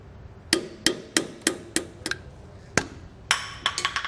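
A hammer taps a flathead screwdriver wedged between a Dexter Nev-R-Adjust electric trailer brake hub and its grease cap. Roughly a dozen sharp, close metallic knocks come in uneven bursts with short pauses between them.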